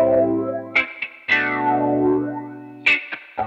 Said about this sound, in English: This is a phaser sound, for example.